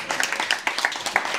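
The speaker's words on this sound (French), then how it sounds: "Ah oui, on applaudit le collège." A comedy show audience gives a brief scatter of applause, a quick patter of claps at moderate volume.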